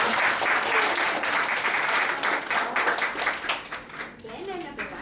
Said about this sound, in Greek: Ένα χειροκρότημα για στην Βασιλεία.